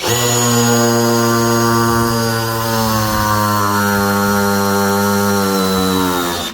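A power drill drives screws into oak, a loud, sustained motor whine close up with a strained buzzing tone that sags slightly in pitch under load. It runs continuously without pause or talking.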